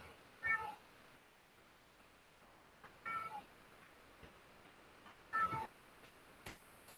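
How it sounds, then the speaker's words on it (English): A cat meows three times at spaced intervals, each call short and rising, heard fairly clearly against a quiet room background, with a faint extra sound near the end. "Now, if you hear the cat,"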